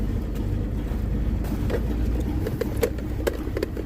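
A 1981 Ford Mustang engine idles steadily after a carburetor adjustment on a cold start, a continuous low rumble with no talk over it.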